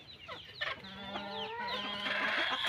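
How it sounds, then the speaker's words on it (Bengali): Desi chickens cluck and chatter on a poultry farm, several birds calling over one another in quick, overlapping bursts, fairly near and moderately loud, with no voices. "দেশি মুরগি, এগুলি দেখ দেশি মুরগি।"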